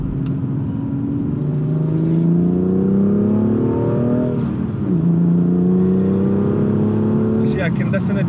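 BMW M2 driving on a road test route, heard from inside the cabin as a loud steady engine drone that rises in pitch through gears under acceleration, with tyre and road rumble throughout.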